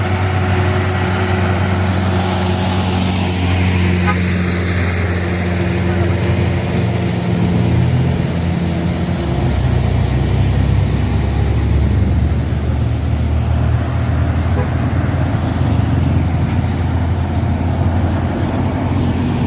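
Heavy trado trucks and a bus rumble past on a muddy road, a loud continuous engine drone with deep low-end roar that swells as vehicles pass close by, no talk over it.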